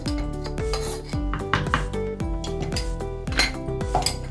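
Semolina batter is scraped out into a bowl with a spoon, making a busy run of squeaky, grinding rubs and scrapes that repeat in short strokes, close and fairly loud.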